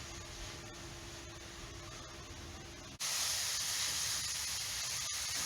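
Oyster mushrooms sizzling in a hot pan, a steady close hiss that suddenly jumps much louder and brighter partway through, continuing as a strong spray-like sizzle with no talking.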